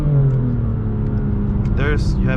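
A 2020 BMW M2 Competition engine pulls hard from low speed, its steady rising drone heard from inside the car beneath someone talking.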